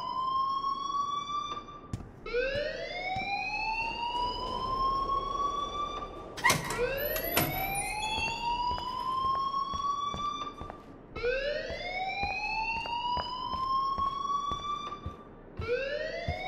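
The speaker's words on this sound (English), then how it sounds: "please turn off that alarm" A fire alarm in Life Is Strange wails in loud, repeated rising sweeps with electronic harmonics, each cycle climbing and then restarting, continuing throughout with a brief metallic clank in the middle.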